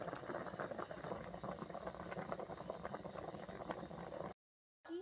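Pitha dumplings boiling in a pot of water, a steady bubbling and rattling simmer heard close up, continuing evenly before cutting off briefly near the end.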